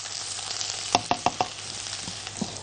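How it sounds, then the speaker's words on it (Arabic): Minced garlic sautéing in oil in a pan: a steady close sizzle broken by a few sharp stirring clicks and scrapes of a spoon, with no talking. "هنزل فيهم بمعلقه كبيره من الثوم المفروم"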